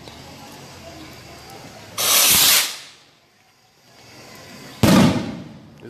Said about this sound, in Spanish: Esos cohetes tienen una detonación muy fuerte